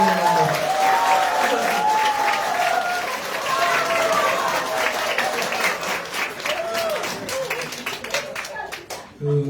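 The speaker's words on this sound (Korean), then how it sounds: "박수 한번 주세요" At a party members' meeting, an audience claps for a two-term lawmaker. The applause is loud and sustained, with voices and some sung or called-out tones mixed in, and it fades out at the end.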